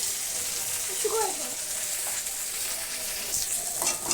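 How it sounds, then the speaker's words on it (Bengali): Fresh spice masala sautéing in a pan for egg curry in a village kitchen, a steady close sizzle with a few scraping stirs running throughout. "টাটকা মশলা এটা দিয়ে এটা কষিয়ে নেবো"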